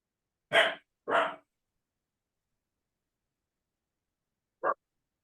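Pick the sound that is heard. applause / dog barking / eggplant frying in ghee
dog barking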